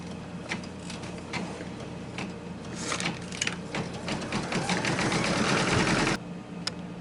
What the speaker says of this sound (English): I'm going to put my foot down